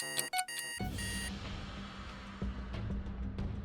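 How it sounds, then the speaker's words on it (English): Alarm clock sounding: a sharp electronic beeping and ringing burst at the start, then a continuous lower hum and rattle with scattered clicks. "16 Craziest Alarm Clocks"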